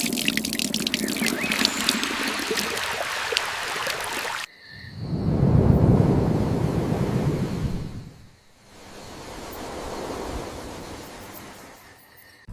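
Water pours and rushes steadily while a farmer irrigates crops in a field, first a bright hissing splash, then a deeper, louder gushing flow that eases to a softer stream.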